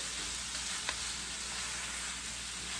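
Curried beef filling frying in a pot makes a dense, steady sizzle at close range, uniform throughout with one brief click partway.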